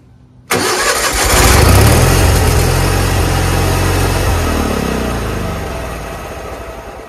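A Toro 616Z zero-turn mower engine that only keeps running on choke at high throttle catches abruptly after a brief silence, then runs loud and steady close by, with no talking.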